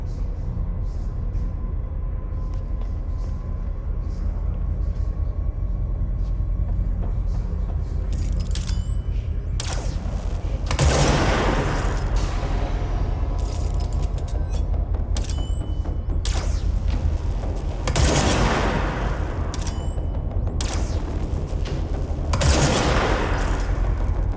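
Gunfire in the video game Control, shooting at snipers: a steady bed of game ambience with several sharp gunshot bursts around the middle and later on, each loud and close with a ringing tail, no talking.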